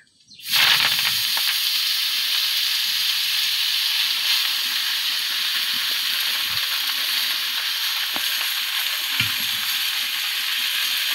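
Taro greens sizzle in hot oil in a pan just used for frying onions and chilies, a steady loud crackling hiss that starts abruptly and runs unbroken, with a few soft clinks.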